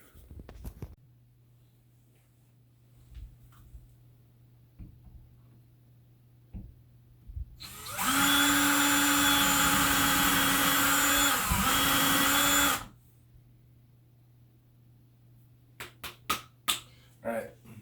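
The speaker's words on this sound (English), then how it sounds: "I'm going to go ahead and drill a couple pilot holes" A power drill bores a pilot hole into a wall stud, one loud continuous whine lasting about five seconds at close range, set between quiet stretches with scattered handling knocks.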